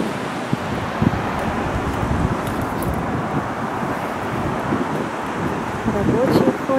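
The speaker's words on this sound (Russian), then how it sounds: "Вот такой ветер, мы еле зашли." Strong wind blowing across a waterway lock on the Trent-Severn Waterway, a steady roaring buffet on the microphone that swells toward the end, with someone speaking over it.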